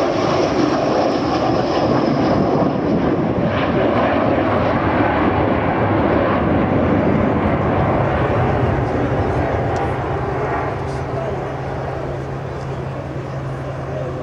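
An Avro Vulcan bomber flies past at an air display, its engines a loud, sustained roar that swells and holds throughout, with a steady low drone emerging near the end.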